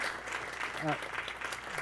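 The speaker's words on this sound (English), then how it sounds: "So let's give them a round of applause." An audience at a talk in the Gateway Film Center applauds with a dense wash of clapping, and a voice briefly speaks over it partway through.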